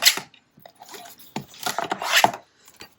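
Paper trimmer slicing down a piece of paper for a trifold pocket, short close rasping strokes with brief pauses in between and no talking.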